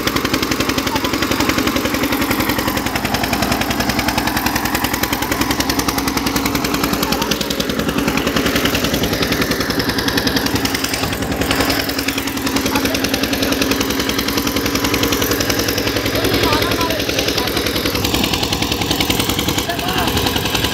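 An Eicher 242 tractor engine runs hard while pulling through soil, a continuous loud rapid diesel chatter with steady rumble, unbroken for about twenty seconds with faint talk underneath.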